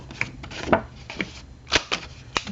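Scissors snip through paper corners on a pop-up album page, giving a handful of sharp, close cuts at an uneven pace with soft handling rustles between them and no talk.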